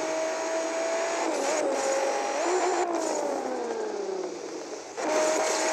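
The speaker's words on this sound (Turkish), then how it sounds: "İşte şu araba sesleri bir tık." Audi S4 race car engine in the Asphalt 8 video game, a loud steady whine rising and falling in pitch through gear changes and acceleration, continuous for several seconds with no talk.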